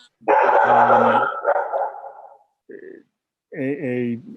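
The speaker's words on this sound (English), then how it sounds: "Whoever has the dog in the background, if they could mute their phone, because all I hear is the dog." A dog barks in the background of a planning commission phone call, giving a few close, loud harmonic barks with a short gap between bursts and no other talk in between.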